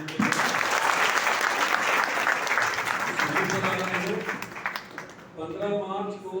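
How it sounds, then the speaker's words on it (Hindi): An indoor audience gives a burst of loud, dense applause that holds steady for several seconds, then thins out as a voice starts speaking over the last of the clapping. "एक बार तालियां बजा दीजिए।"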